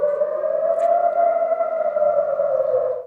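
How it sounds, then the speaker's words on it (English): Air raid sirens sound in Israel during an Iranian missile attack, a single sustained, loud wailing tone that holds steady for about three seconds before cutting off abruptly. "And there are the sirens."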